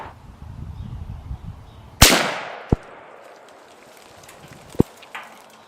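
A .243 Win rifle shot from a Savage or Weatherby cracks loud and close with a long decaying tail, followed by two much shorter, sharper reports later on, over low outdoor rumble.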